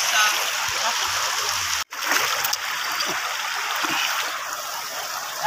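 River water flows steadily with a broad hiss of rushing current and occasional small splashes, close by, with voices faintly underneath.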